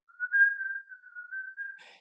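A single clear whistled melody from the film M, a close, pure sustained tone that wavers slightly in pitch for about two seconds and ends in a breathy fade.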